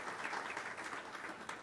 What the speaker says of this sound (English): Give him a round of applause on that